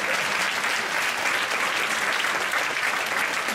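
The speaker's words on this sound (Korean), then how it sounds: "우리 청년들을 위해서 박수 한번 치겠습니다." A church congregation at a Friday night worship service claps for its young people, a steady, dense wash of applause from many hands filling the room without a break.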